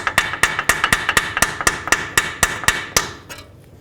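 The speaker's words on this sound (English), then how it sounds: "Hammer your socket on." Around a dozen sharp metallic hammer blows in quick succession knock a 19mm socket onto the castle nut of a lower ball joint on a 2001-06 Toyota Camry, then trail off into quiet.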